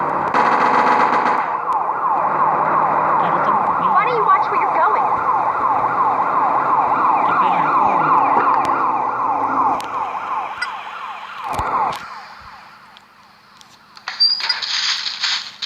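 Loud, rapidly warbling police car siren in a GTA video game dominates most of the clip, then cuts out, leaving quieter noises and a brief sharp burst near the end.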